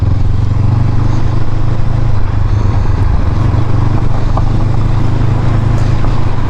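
Honda CB500X adventure motorcycle, a 2022 model, riding on an unpaved road: a steady, loud low engine drone with continuous wind and road rumble, no voices.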